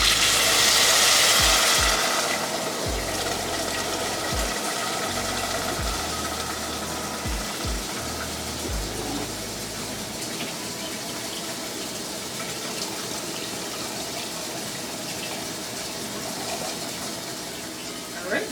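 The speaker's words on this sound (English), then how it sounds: "we're going to add in enough water to cover the top of it" Water pours steadily into a cooking pot to cover pork steaks, a broad continuous gush that is loudest at the start and then settles, with intermittent low thumps in the background.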